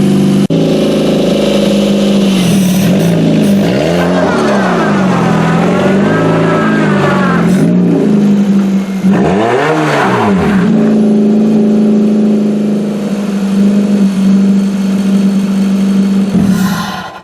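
A manual Hyundai Elantra derby car engine revs loud and close, rising and falling in several pulls while creeping forward on ice, steady engine drone between revs and no talking.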